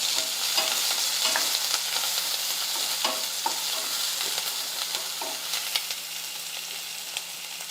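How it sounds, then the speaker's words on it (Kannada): Onions and curry leaves sizzle in a hot pan, a continuous bright frying hiss broken by frequent scrapes and clinks of stirring, close and alone with no voices. "ಇದೆಲ್ಲ ಸ್ವಲ್ಪ ಚಲೋ ಹೊತ್ತಿಗೆ ಫ್ರೈ ಮಾಡ್ಕೊಳ್ಳೋಣ."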